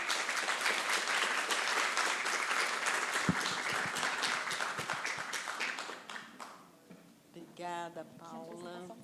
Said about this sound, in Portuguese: peço uma salva de palmas para eles